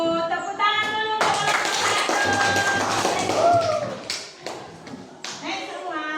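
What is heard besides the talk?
classroom applause for a presenting group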